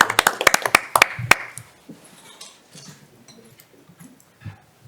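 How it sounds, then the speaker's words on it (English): A handful of people clap briefly at a school board meeting, a short, sparse burst of sharp, distinct claps lasting just over a second, followed by quiet room noise and faint shuffling. "We should give them a round of applause."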